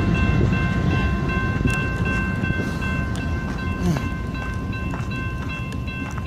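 A freight train rolls steadily past close by at a three-way meet in Glenns Ferry, with a continuous rumble, rail clatter and squealing tones from the wheels and cars, loud and sustained throughout.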